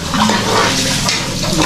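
A weak, thin stream of water runs from a tap in a home where the pressure drops at this hour, a steady soft broadband hiss continuing without a break from start to end.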